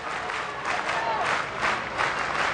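A Husker baseball crowd at a Nebraska game cheers and applauds with bases loaded, a steady broadband roar of clapping and shouting that swells in waves, with a commentator's voice faintly under it.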